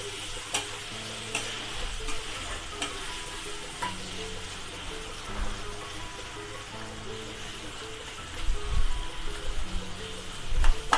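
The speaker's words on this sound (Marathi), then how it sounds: "मस्तपैकी टोमॅटो भाजलेले आहेत, तेल सुटलेलं आहे बघा त्यांना" Tomatoes fry in hot oil with whole spices, a soft constant sizzle with occasional spoon stirring and scraping that grows louder toward the end.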